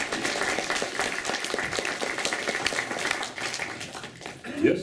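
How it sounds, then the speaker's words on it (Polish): An audience at an integration gathering claps in a broad, sustained wash of applause that rises briefly near the end, with voices talking over it throughout. "Bardzo proszę o brawa dla pana Homziuka."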